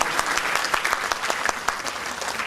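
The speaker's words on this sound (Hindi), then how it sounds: "आप सब इनके लिए तालियों से अभिवादन करें।" An audience breaks into steady applause at a spoken event, a dense, even patter of many hands clapping at close to moderate distance for a couple of seconds.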